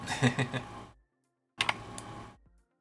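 Fingers tap out quick bursts on a computer keyboard, two short runs of close, crisp key clicks separated by a brief silence.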